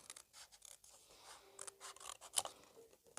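Scissors cutting out a stamped paper piece for a crafting pouch, soft close snips and paper rustles with one sharper crisp cut near the end, quiet and alone.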